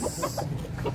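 Chickens at a poultry market in Consolacion, Cebu give a quick run of close clucks and short squawks, several in about a second.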